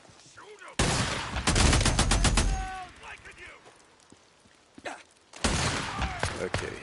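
Gunfire in Days Gone comes in two loud, close bursts of rapid shots with a quieter stretch between them, where a few single pops and a brief voice are heard.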